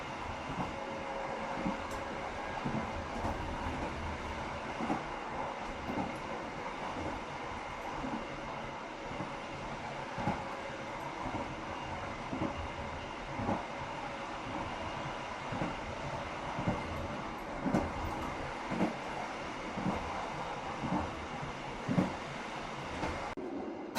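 Siantar Ekspress passenger train running at about 80 km/h, a steady loud rumble of wheels on rail with repeated clicking joints over continuous onboard noise.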